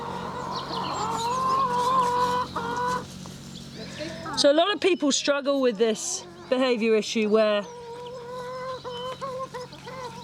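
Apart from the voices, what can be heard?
chickens clucking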